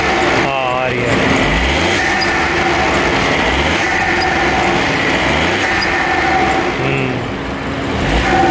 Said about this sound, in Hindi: तो भाई ये आने लगी हिसिंग साउंड। ये एयर फिल्टर लगने से और टर्बो इनलेट लगने से हुआ है।